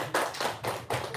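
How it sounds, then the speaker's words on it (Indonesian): Four or five distinct hand claps in a steady rhythm from an audience at a gathering, fairly soft and close with no talk over them. "Tepuk tangan dulu dong."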